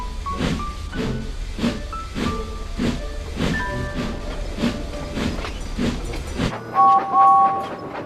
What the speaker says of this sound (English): James was then finally able to pull the train.